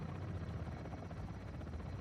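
Helicopter in the Call of Duty Modern Warfare 2 video game, a steady loud rotor thump and engine drone running continuously without speech.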